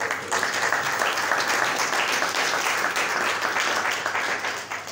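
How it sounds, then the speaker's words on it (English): A music-conference audience breaks into a round of applause, dense and continuous for several seconds before easing slightly at the end. "maybe a round of applause to start"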